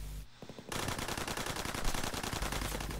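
Rapid automatic gunfire from the Call of Duty video game begins after a brief quieter moment, then continues as a dense, loud, unbroken stream of shots to the end.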